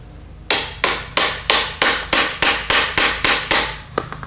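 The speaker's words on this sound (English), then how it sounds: "I'm just going to take a little hammer and start to pound this in place" A hammer strikes metal about a dozen times in a steady rhythm, tapping a U-joint bearing cap into place, each hit sharp and loud with a short ringing decay.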